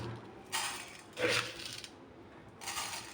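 Four tablespoons of coriander seeds are tipped into a pan for dry roasting over a medium flame, making a few short rattling, clinking bursts of hard seeds hitting metal, with quiet pauses between them.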